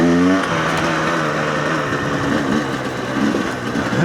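A GPX TSE 300R motorcycle fitted with an X Gen 3 carburettor runs at low revs, a steady medium engine hum with a brief rev dip at the start, heard from close by.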